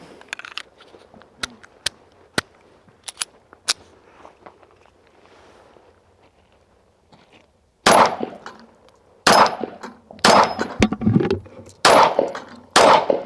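S&W Bodyguard 2.0 Carry Comp pistol fired at a steel paddle target system: quieter taps and handling in the first half, then five loud, sharp shots close by, each ringing with a metallic clang, spaced about a second apart.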